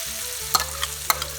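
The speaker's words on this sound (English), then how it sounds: "add your pancetta into the frying pan and you let that heat up until it starts to sizzle" Pancetta and chopped onions sizzle steadily in a frying pan, a constant hiss with a few sharp clicks and spatters of utensil against pan, no voices.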